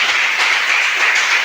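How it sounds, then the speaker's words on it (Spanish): A church congregation applauding for Jesus Christ: dense, steady clapping that fills the whole moment without a break. "Dale un aplauso a Jesucristo."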